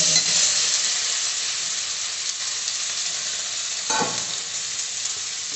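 Ginger-cumin paste frying in a pan while being stirred, a continuous crisp sizzle with occasional scraping strokes and one louder clatter near the end, close and steady, with nothing spoken.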